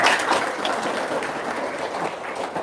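A seminar audience of market traders claps together, a dense, steady wash of hands that holds at even loudness for a few seconds with no voices over it.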